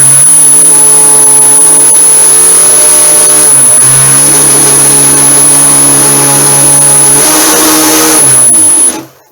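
A small electric motor on an indoor model Spitfire plane runs with a steady, loud, rattly whine and buzzing harmonics, dipping slightly in pitch at moments before cutting off at the end.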